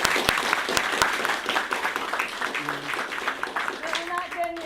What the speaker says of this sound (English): let's give these Students of the Year another round of applause.